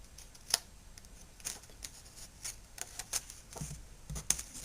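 Scissors make several faint, crisp snips while trimming the edge of a paper faux wood grain plank, spaced irregularly across a quiet background.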